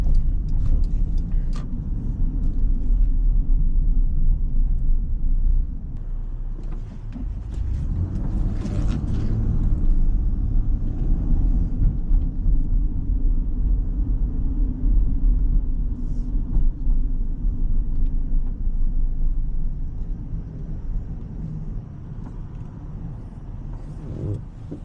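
Interior of a Toyota Granvia Q 3.4 V6 4WD minivan on the move, a steady low engine and road rumble that stays even and fairly subdued throughout, no voices.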